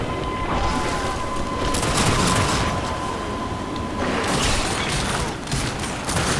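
Shotgun blasts from The Darkness II come in heavy bursts, a couple of rough loud booms early and another cluster later, amid a chaotic gunfight bed of crackling noise.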